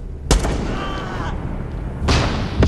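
Gunfire in the Far Cry 6 video game: two sharp, loud shots about two seconds apart, with a faint tonal sound and background noise between them.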